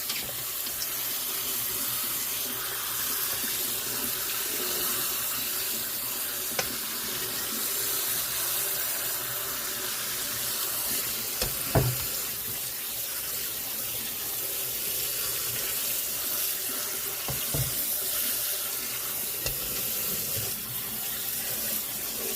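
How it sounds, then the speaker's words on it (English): Water runs steadily from a kitchen faucet as egg noodles are rinsed of their starch, a continuous close hiss with a couple of brief knocks from the pot or strainer, no talking. "I'm going to rinse some of that starch off."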